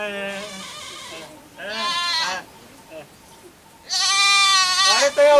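Goats bleat in loud, wavering cries, one at the start, another near two seconds and a strong one near four to five seconds, close by in a rural comedy scene with a voice speaking in between.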